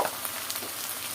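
Spices for chickpea dal fry in a pan, giving a steady, close sizzle with faint stirring scrapes and no voices.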